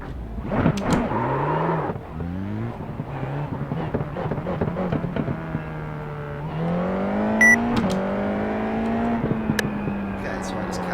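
Car engine revving up through first, second and third gears in a gear-shift sound mod, rising and falling engine tones with shift breaks, loud and close, with voices talking over it.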